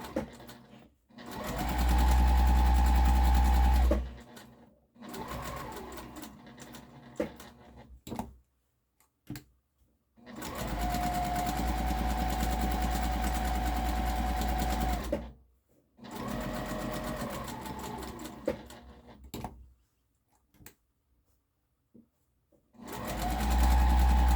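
A sewing machine stitches a harvesting apron in several steady runs of a few seconds each, with a whining motor tone under the rapid needle ticking and quiet pauses between the runs.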